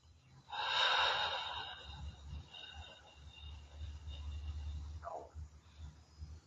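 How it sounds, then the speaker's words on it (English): A slow, deep breath during a morning meditation practice, heard as a soft, airy rush that swells near the start and then fades gradually. It is quiet and close, with a faint low hum behind it. "And now slowly exhale."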